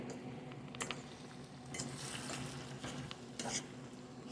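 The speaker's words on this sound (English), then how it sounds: "I'm just going to mix that in." Shrimp and canned crab meat get stirred into vegetables in a pan, soft faint sizzling with a few spoon clinks and scraping against the pan.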